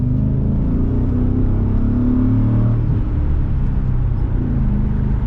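MG ZT 260 V8 opened up on the road: a deep, rumbling engine note heard from inside as the car accelerates, with the pitch drifting up and settling in a steady, throaty drone.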